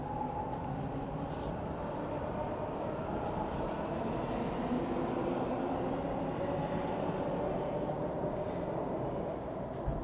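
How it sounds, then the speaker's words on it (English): Low rumble of a Toronto subway train inside a station, a steady rolling drone heard from the platform that lasts throughout, with no one speaking. "it looks like I might have just missed a subway train"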